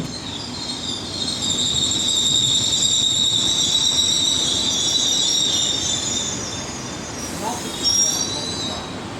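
Continuous rumble of a train in motion heard from inside a business-class coach, with steady high-pitched wheel squeal running throughout and a brief louder burst near the end.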